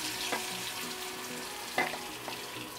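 Thin potato slices fry in oil in a thin wok, a soft steady sizzle with a few faint clinks and stirring sounds, quiet and without talk.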